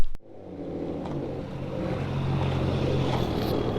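A Datsun 280Z with a swapped 1JZ VVTi engine on E85 fuel rumbles as it drives off toward the dyno, a steady low engine drone rising slightly after a brief thump at the start.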